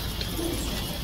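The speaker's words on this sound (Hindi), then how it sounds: "कबूतर।" A pigeon coos once, softly and close, against a dense, steady background hiss in a short snippet.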